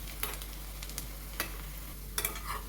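Onions frying in a pan, a soft steady sizzle with occasional sharp crackles and spatters as they cook toward golden, with a low hum in the background.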